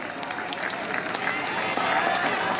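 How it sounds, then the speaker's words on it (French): An audience at an outdoor concert in Algrange, France applauds volunteers with dense, sustained clapping that swells toward the end, with crowd voices mixed in. "je voudrais vraiment un tonnerre d'applaudissements"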